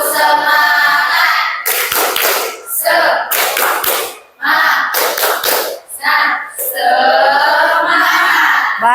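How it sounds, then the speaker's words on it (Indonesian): A class of schoolchildren in an Islamic junior secondary classroom performs a rhythmic spirit clap, bursts of unison hand claps alternating with the group chanting together in a patterned call. "Oke, tepuk semangat. 1, 2, 3. Tepuk semangat."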